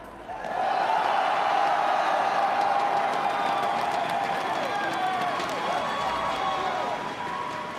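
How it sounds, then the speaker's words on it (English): A crowd at a Clash Royale world championship grand final cheers and applauds for the champion, Mohamed Light. The roar is loud and sustained, with clapping running through it for the whole stretch. "One more time, I want to hear in the crowd, give it up for Mohamed Light."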